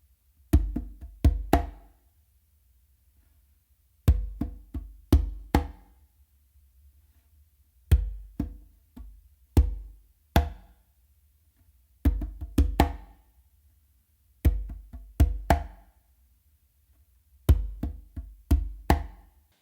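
Congas play a funk a caballo pattern of bass, finger and slap strokes, in short crisp clusters of sharp hits separated by silent gaps, recurring in a repeating cycle, close and clear.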